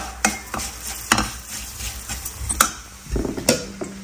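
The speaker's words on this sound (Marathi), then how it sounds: "हे परतून घेऊ." Turmeric, coriander powder and red chilli powder are sautéed in a pan, with a spoon scraping and stirring in irregular clinks over a soft sizzle, close and clear, with no talk.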